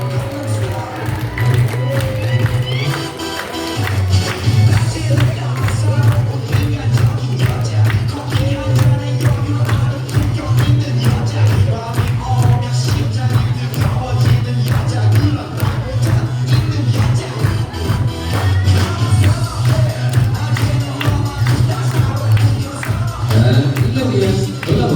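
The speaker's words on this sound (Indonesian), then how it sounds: "Kita bantu dengan tepuk tangan berirama" Audience at a dolphin show in Batang, Central Java clapping in steady rhythm during a dolphin hula hoop act, a loud continuous crowd texture with music-like drone underneath and some voices.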